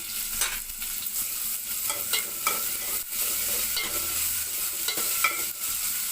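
Curry leaves and green chillies sizzling in hot oil for sambar, a steady crackling fry with scattered sharp pops and stirring scrapes, close and continuous, no voices.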